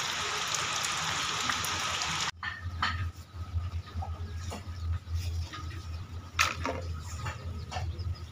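Heavy monsoon rain pours down outside a house in Mayurbhanj on its third straight day, a dense steady hiss and patter with scattered nearby drips and taps, close and continuous without a break.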